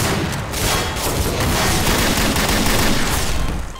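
Gunfire in the video game Garry's Mod DarkRP: loud, dense automatic fire pours out in a continuous rattling barrage that holds for several seconds, close and harsh, with no talking.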